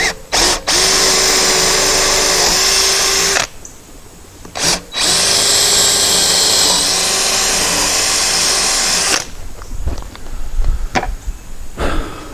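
A power drill bores a 3/8 inch bolt hole through timber for a backyard pavilion, loud sustained whine running for several seconds, a short break, then a second long burst before it winds down into clattering handling noise.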